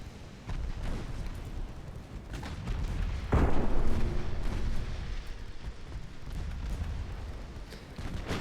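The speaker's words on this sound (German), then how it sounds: "dass die Main Guns teilweise aus diesen Entfernungen immer daneben schießen" Battleship main guns fire in Ultimate Admiral: Dreadnought, one heavy deep boom standing out near the middle, with more distant rumbling shots and naval battle noise around it.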